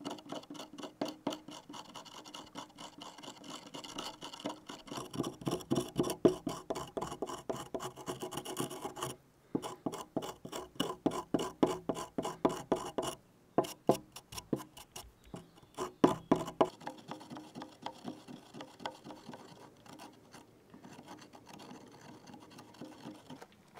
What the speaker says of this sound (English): This is the result after 2 minutes grinding with the stone